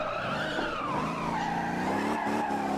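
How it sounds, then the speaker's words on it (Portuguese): Tires squeal in a long, steady screech as a car drifts around a race track in the Motor Town driving game, with the engine droning underneath throughout and no voices. "Queima pneu."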